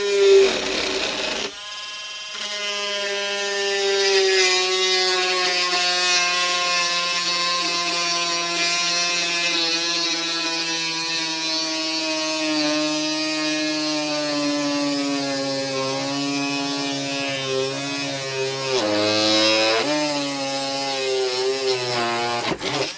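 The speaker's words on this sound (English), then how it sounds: "Just by the weight of the tool, I'm going to see how it drills into this piece of scrap pine." A HyperTough rotary tool drills into a piece of scrap pine, giving a loud continuous high-pitched motor whine that shifts in pitch as it bites into the wood, running alone for over twenty seconds.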